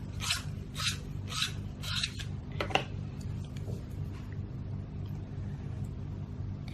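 A Caran d'Ache Luminance colored pencil in color 876 being sharpened by hand: four quick, close rasping strokes in a row, then quieter scraping over a steady low hum.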